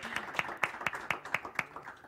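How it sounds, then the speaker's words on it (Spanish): Sparse, quiet clapping from a small audience at a talk event with a singer as guest, about eight distinct claps in an even rhythm, faint and close. "Otro aplauso para ella."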